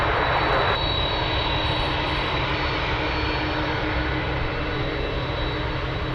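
A cargo aircraft taxis close by at Anchorage airport, its engines giving a loud, steady roar with a thin high whine riding on top throughout.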